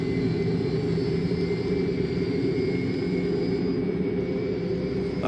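Steady, droning aircraft engine running on the ground with a constant broadband roar and no pauses, fairly close and without talk.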